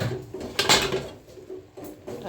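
A lid comes off a cooking pot of carrot halwa with a short metallic scrape and clatter, close and moderately loud, followed by quieter rustling.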